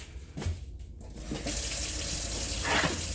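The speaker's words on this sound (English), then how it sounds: "I gotta turn on my water again." Kitchen water tap running into a sink while making bread, a steady close rush of water that starts after a brief clatter and continues to the end.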